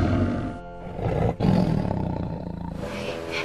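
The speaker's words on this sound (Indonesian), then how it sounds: "Kayaknya suara harimau deh itu." A tiger roars loudly and close, a deep sustained growl filling the scene with a brief break midway before resuming.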